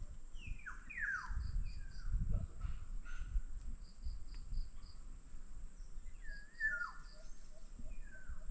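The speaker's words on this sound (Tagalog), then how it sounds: "Kilyawan po yung ibong iyon." A black-naped oriole, a yellow bird perched high in trees, sings faint fluty descending whistles in a few separated phrases over steady crickets and distant low rumble, with no speech.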